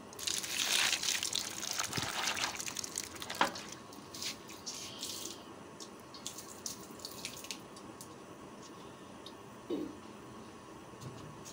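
Cut vegetables are rinsed under running water in a home kitchen, a splashing gush at first that gives way to scattered drips and light handling sounds, fairly faint overall.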